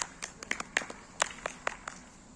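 Scattered hand claps during a party game, a dozen or so sharp, uneven slaps spread over a couple of seconds, moderately close against a faint room hush with no talk.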